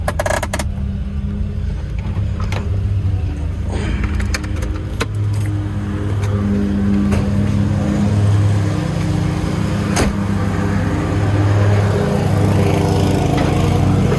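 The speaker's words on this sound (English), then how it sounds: "And it's still ignition pinging pretty bad." A 1984 Volvo 240 engine runs steadily up close with ignition pinging, a continuous mechanical drone with no talking.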